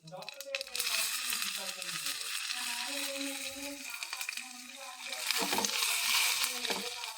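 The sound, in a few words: green chilli pieces sizzling in hot oil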